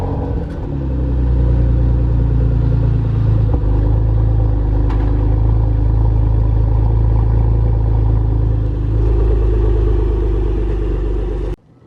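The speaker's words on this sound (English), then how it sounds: "this is a probably lukewarm startup on a Porsche Macan GTS" Cold-ish start of a Porsche Macan GTS engine: a quick crank catches into a loud, close, steady rumbling idle that holds unchanged for about eleven seconds before cutting off abruptly.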